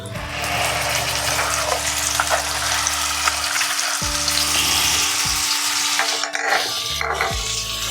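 Ground spice paste of garlic and ginger hits hot oil for a Bengali rui fish curry, giving a loud, dense sizzle that holds steady with some stirring, close up and without speech.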